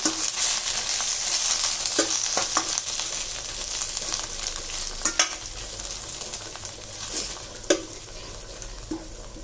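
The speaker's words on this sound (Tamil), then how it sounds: "இதை வந்து நம்ம லைட்டாக இந்த நெய்யிலேயே வதக்கிடலாம்." Thoothuvalai leaves are sautéed in ghee in a pan, with a continuous close sizzle and frying hiss broken by occasional scraping stirs and clinks of the spoon, no voices.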